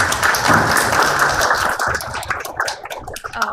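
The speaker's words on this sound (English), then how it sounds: "Please give them a round of applause." Audience applause at a national workshop on ESG and corporate governance, welcoming panel speakers; dense clapping that thins toward the end into scattered individual claps.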